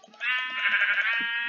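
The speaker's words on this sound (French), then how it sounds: "On va buter tous les moutons." A sheep in the Minecraft survival game lets out one long, loud, wavering bleat that starts after a brief quiet moment and carries on to the end, alone and close.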